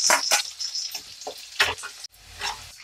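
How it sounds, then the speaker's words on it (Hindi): Onions frying in a pan with curry leaves, browned lightly for black chickpea chhole, a close crackling sizzle broken by bursts of stirring scrapes, with a brief pause near the end. "करी पत्ते डाल के इसी में हम प्याज डाल देंगे। प्याज को लाइट ब्राउन होने तक भूनेंगे।"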